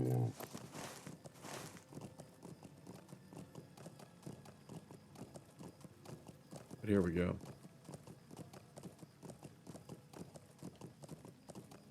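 Mount hoofbeats in the Lord of the Rings Online video game, a steady clip-clop of a riding animal's hooves that runs under a voice.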